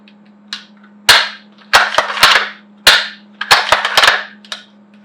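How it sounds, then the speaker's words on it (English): Bolt of a long-range rifle being worked briskly, sharp metallic clacks and slides in several quick groups, loud and close over a steady low hum. "we can work the bolt a little more briskly and ensure we don't have any slam fire"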